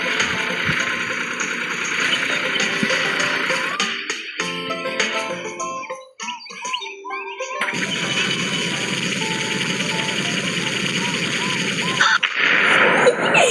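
Gunfire and heavy explosions from rocket launchers in a chaotic online shooter game, a dense loud barrage that briefly thins in the middle before resuming full force, with faint voices underneath.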